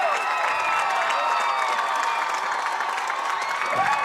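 Steady, loud applause and cheering from the home crowd at a high school football game after a Bears victory, dense clapping mixed with whoops that holds throughout.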